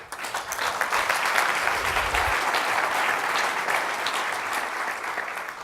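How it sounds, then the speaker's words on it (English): An audience at an economist's lecture claps steadily. The applause is even and moderately loud and lasts the whole few seconds without any speech. "I'm a bit embarrassed by clapping"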